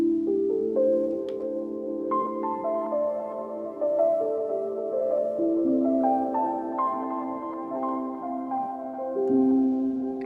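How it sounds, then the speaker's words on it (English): A lo-fi synth pluck built from a mangled, manipulated piano sample plays a soft, slow sequence of overlapping chord notes, warm and gently wavering, alone at moderate volume. "another sound here is this lo-fi pluck"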